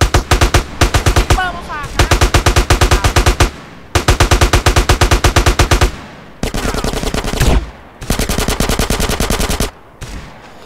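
Loud automatic gunfire in the video game Battlefield: repeated rapid bursts of machine-gun fire with short pauses between them, close and dominant throughout.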